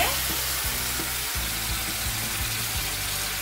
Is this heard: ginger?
yes